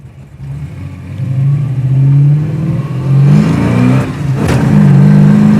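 A 1979 Camaro Z28 on big tires accelerates loudly and close by, its mid-pitched engine note rising in a couple of strong pulls through the gears with no talk.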